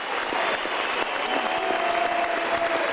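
Crowd at Tiger Stadium in Detroit applauds Alan Trammell as he leaves his last game, a broad, steady roar of clapping and cheering from many people that holds throughout.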